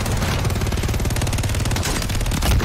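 WSP Swarm submachine gun with a 100-round magazine in Warzone 3, firing one unbroken, very fast, loud close-range burst for the whole stretch.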